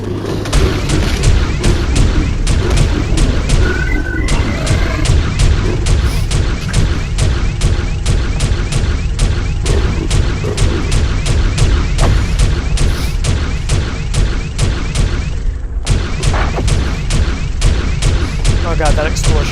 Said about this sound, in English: Oh god, that explosion hurt.